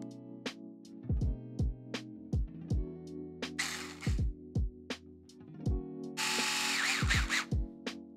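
A 2mm hex driver turns a lower shock mount screw with a washer on a 4x4 vehicle's transmission upgrade, giving short repeated whirring bursts close up, separated by brief pauses and a few clicks, with no talking.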